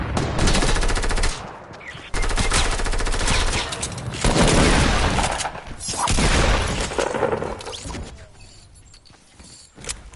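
Shotgun and other gunfire from an online duos shooter game, loud, dense blasts and bursts filling most of the stretch with short lulls between volleys, fading toward the end.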